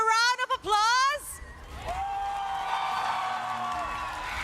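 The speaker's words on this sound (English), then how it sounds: "Flame Boys, a round of applause." Crowd cheering and applause at an esports match in a Malaysian mobile legends league, following a short burst of a caster's excited voice, then a sustained roar of cheers and clapping that stays loud to the end.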